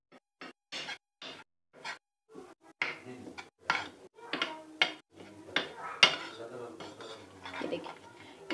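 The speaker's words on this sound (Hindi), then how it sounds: "ये तमाम मसाले जो हैं वो मिक्स कर लेती हूँ मैं अच्छे तरीके से" Dry spices stirred together in a bowl for a kale chane dish, a spoon striking and scraping the bowl in quick, irregular clinks and taps, close and fairly quiet.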